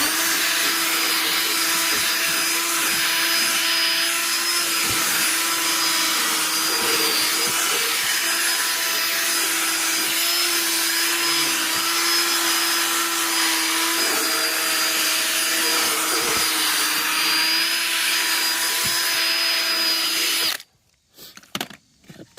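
A Bissell vacuum cleaner runs in a continuous loud whine with a steady hum for about twenty seconds, then shuts off abruptly, leaving brief faint knocks.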